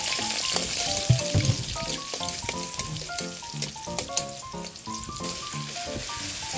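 Garlic and onion sizzle and fry in a hot pan, a steady crackling hiss with scattered sharp pops and occasional stirring scrapes, close and continuous without talk.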